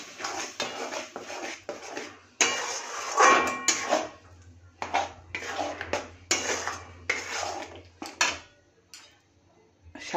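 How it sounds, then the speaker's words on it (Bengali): A spoon scrapes and clanks against a metal pan while spinach paste is stirred into a curry, coming in irregular bursts of clinks and scrapes with brief pauses between them. "এইবার পালং শাকের পেস্টটা দিয়ে দেবো। দিয়ে ভালো করে মিশিয়ে নেব।"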